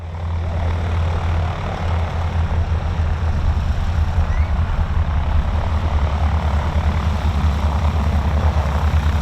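Steady droning engine and propeller of a World War II tail-dragger aircraft with twin 30 caliber machine guns, taxiing back in S-turns at an airshow, a loud continuous low hum with no pauses.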